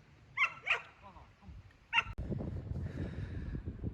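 A young sheepdog in training gives a few sharp barks nearby, two quick ones then another after a pause, followed by rustling and muffled noise, with a person speaking in the background.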